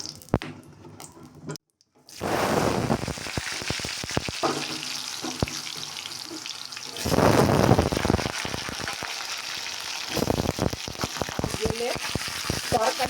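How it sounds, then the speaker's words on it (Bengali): Cabbage and potatoes hit hot oil seasoned with black cumin and sizzle loudly and steadily, with bursts of crackle and some stirring clatter. A short pause comes near the start, and the frying swells again partway through. "কড়া তেল পুরো গরম হয়ে গেছে দিয়েছি কালো জিরে এইবার আমি বাঁধাকপির আলু তুলে দেবো"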